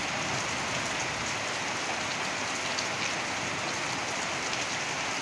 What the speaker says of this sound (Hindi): देखो बहुत तेज पानी आ रहा है